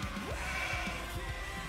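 Sheep bleat in Age of Empires II, several short, nasal baas scattered over a busy, steady background of game noise.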